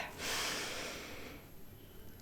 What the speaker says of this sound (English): Another big breath.